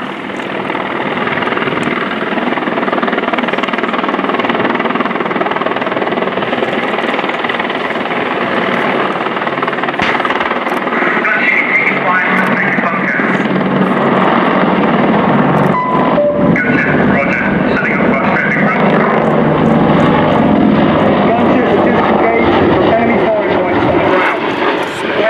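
Two Apache AH1 attack helicopters hover and turn at the RIAT 2015 air display, a loud, steady rotor and turbine roar filling the whole stretch with shifting tone, while a commentator talks over it.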